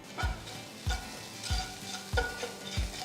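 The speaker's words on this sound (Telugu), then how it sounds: "ఇందులో ఒక టీ స్పూన్ పసుపు ఒక టీ స్పూన్ ఉప్పు వేసి అంత బాగా కలపాలి" Fried onions with turmeric and salt stirred in a pan over a soft sizzle, the spoon scraping in a steady rhythm of about five strokes, close and clear with no talk.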